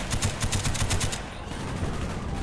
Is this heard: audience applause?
no